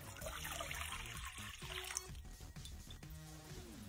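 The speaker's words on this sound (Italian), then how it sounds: "Ora impastiamo. Verso l'acqua" Water pours into a dough mixture for Neapolitan fried zeppole, a soft trickling stream that breaks into splashy dribbles and bumps against the bowl, fairly quiet and heard without speech.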